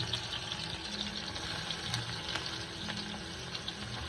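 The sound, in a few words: onion added to hot oil with mustard seeds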